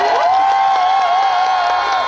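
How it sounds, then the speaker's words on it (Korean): A concert crowd at the Geumcheon Harmony Festival claps and cheers for the guest singer's crew. A loud, continuous wash of applause carries a sustained high cheer or whoop riding on top. "여러분 박수 한 번 더 크게 뜨겁게 해주시죠"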